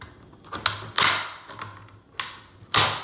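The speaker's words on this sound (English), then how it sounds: "Now I can put the chisel in there" A chisel pries apart a plastic CGC graded comic slab, giving a few sharp cracking snaps and creaks in an uneven rhythm, close and fairly loud, with no talking.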